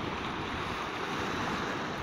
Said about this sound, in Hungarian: hát fúj a szél, és azért vannak ekkora hullámok